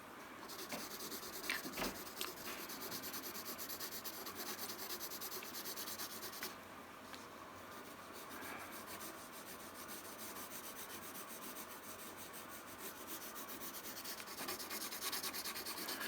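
A pencil shades at medium pressure, giving a steady, soft, close scratching rub that continues without a break for about sixteen seconds, quiet and with no talk.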